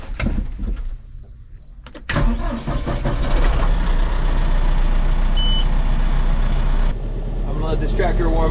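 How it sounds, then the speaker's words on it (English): A farm tractor starts up at a hay field; after a brief crank the engine catches and settles into a loud, steady, rumbling idle close by. "Let this tractor warm up for a couple minutes."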